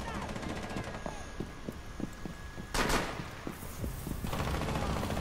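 Rapid rhythmic gunshots fire in a shooter video game, a steady stream of sharp reports with a louder burst midway, over background game sound and a talking player.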